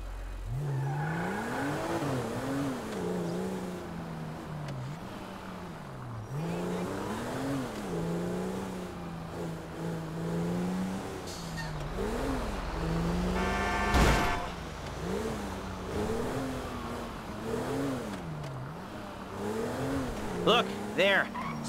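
A car driving around a city block in GTA V: engine hum rising and falling with revving and acceleration, an occasional tire squeal, and characters talking over it throughout.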